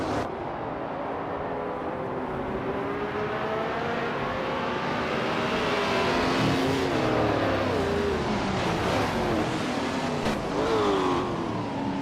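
Race cars in a racing video game accelerating just after the start, several engines whining and revving together with rising and falling pitch, loud and steady throughout with no talking.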